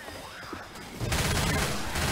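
Left 4 Dead 2 game gunfire: quieter ambient noise at first, then a sudden loud burst of rapid shots that continues densely to the end.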